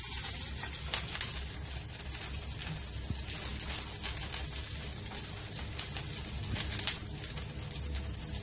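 Chopped onion sautéing in an oil-filled pan gives a steady, close sizzle with fine crackling pops throughout, continuous and fairly loud with no talking.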